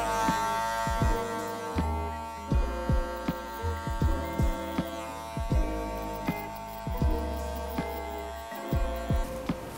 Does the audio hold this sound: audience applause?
no